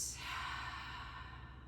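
A long, soft, breathy exhale during a vinyasa yoga flow, close to the mic and heard alone, tapering away over under two seconds.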